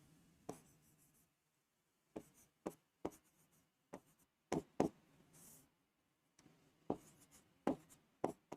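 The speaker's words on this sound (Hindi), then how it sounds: "अलग अलग एग्जाम्पल लिख रहा हूं मैं" Chalk or marker writing on a classroom board during a class 9 maths lesson, with short scratchy strokes in irregular bursts and brief pauses between them, close and fairly quiet.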